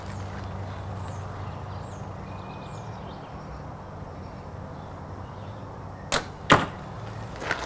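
Arrows shot from a hybrid one-piece bow, two sharp brief thwacks near the end of an otherwise quiet outdoor stretch, with a faint third tap after.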